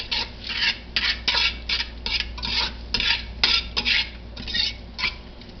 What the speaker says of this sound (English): Stir this around, stir it around.